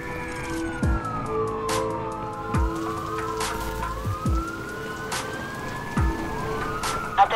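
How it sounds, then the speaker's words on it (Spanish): Police patrol car siren in the video game Watch Dogs wails in steady rising and falling sweeps, with sharp thuds at intervals and a dense rumble of game noise underneath. "Atención, se ha enviado un coche patrulla de alto nivel tras el sospechoso."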